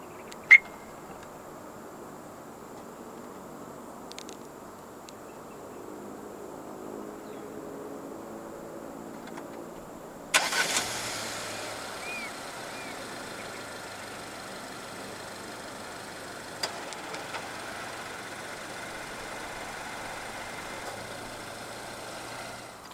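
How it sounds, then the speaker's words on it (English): Jaecoo J7 1.6 turbo engine starting by remote start: after quiet ambience, a sudden start gives way to a faint, steady idle hum, heard at a distance, with a few small clicks. "Standard for the J7 in Malaysia is a remote engine start system."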